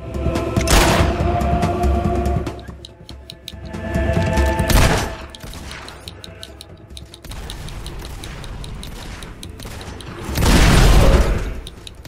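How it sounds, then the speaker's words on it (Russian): Bursts of rapid gunfire from the game Fable 2, several loud volleys separated by quieter stretches with ticking and mechanical clatter underneath. "Обычные выстрелы тоже работают"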